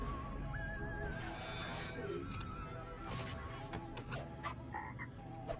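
A frog croaks repeatedly against a busy background with a high whistling tone and other noises, fairly close and steady.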